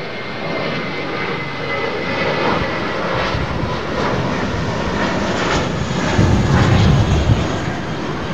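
A Boeing 787 Dreamliner's Rolls-Royce jet engines roar steadily on takeoff at Heathrow, a broad sustained rumble that swells slightly toward the end, with no voices.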